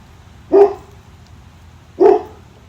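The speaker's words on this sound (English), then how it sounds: "I'm sorry that my dog keeps barking." Dog barking indoors, two sharp, loud barks about a second and a half apart over a quiet background, with no speech.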